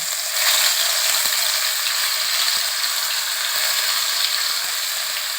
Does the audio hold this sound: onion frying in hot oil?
yes